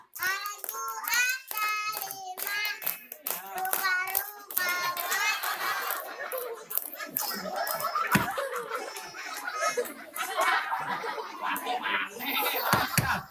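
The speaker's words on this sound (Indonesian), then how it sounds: "Tepuk tangan semua" Children at a clown's birthday party clap their hands amid shrieks, laughter and excited chatter, lively and close, with bursts of clapping scattered across a noisy, crowded room.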